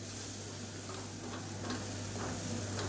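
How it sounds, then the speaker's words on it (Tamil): Chili powder and kuzhambu powder frying in oil, a faint steady sizzle with soft ticking stirs, quiet and close with a low hum underneath. "சேர்த்துட்டு நல்லா எண்ணெயில் பரட்டி விட்டுக்கலாம்"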